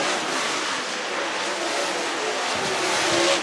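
Race cars roar down the front straightaway at Swainsboro Raceway on race night, a steady broadband engine rush that holds loud and continuous throughout with no voices.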